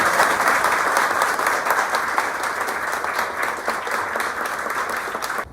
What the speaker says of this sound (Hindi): एक बार अभिषेक के लिए जोरदार तालियों से स्वागत।